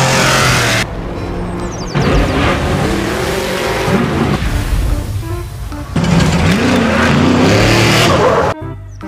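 A toy rally truck's engine noise plays as a loud, continuous revving car sound with racing-style acceleration swells and brief tire-squeal effects, broken by a couple of abrupt cutoffs.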